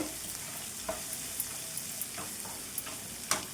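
Ginger garlic paste frying in a pan for a ridge gourd curry gives a steady soft sizzle, with a few light spoon-stirring clicks scattered through it and no talking.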